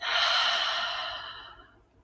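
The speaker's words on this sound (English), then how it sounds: "Inhale again. Exhale out the mouth." A slow, steady breath pushed out through the mouth during a guided relaxation, a soft breathy rush lasting about two seconds that starts full and close, then gradually fades away.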